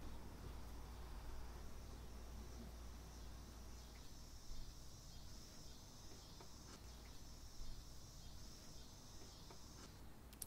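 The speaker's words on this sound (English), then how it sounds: "Here come the cicadas." Cicadas buzz in a continuous high, even drone outdoors, steady and moderately faint throughout with no speech.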